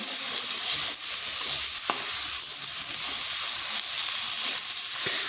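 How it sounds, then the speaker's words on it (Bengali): Ginger-chilli paste lightly frying in a kadai, a steady close sizzle and hiss running throughout with a few faint scrapes of stirring, no voices. "আদা লঙ্কাটা খুব বেশি ভাজবো না হালকা ভেজে"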